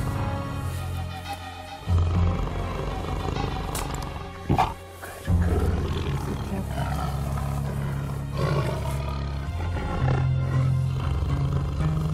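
A wild Siberian tiger roaring during a capture, loud, close, deep roars repeated in several bursts with brief pauses between them.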